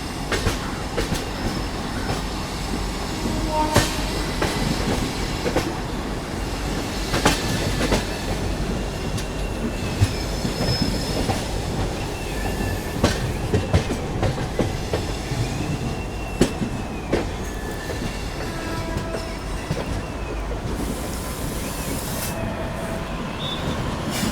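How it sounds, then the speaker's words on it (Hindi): A train pulls out of Chennai Central station, its wagons rolling past nearby with steady clickety-clack, rumbling and occasional wheel squeals over continuous station noise, loud throughout. "आगे यहाँ पर फिर किसी ट्रेन का जो है डिपार्चर हुआ है"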